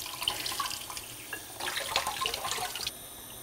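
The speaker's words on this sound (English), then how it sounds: "Quickly add some cold water and just pick it up and just rinse off any blood gunk that might be attached to this." Cold tap water running over beef short ribs as they are rinsed in a kitchen sink, a steady close splashing with shifting patter as the meat is moved under the stream.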